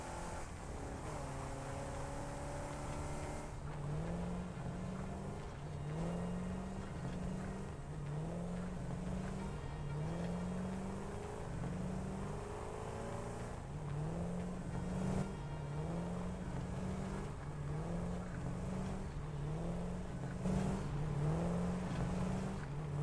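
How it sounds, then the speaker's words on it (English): Explorer vehicle in Satisfactory, its engine revving in a looping, repetitive pattern that never settles to full speed, rising and dropping roughly every second, alone with no talk. "the Explorer sounds kind of weird, like it never quite gets to full speed. It's kind of keeps on repeating the like revving"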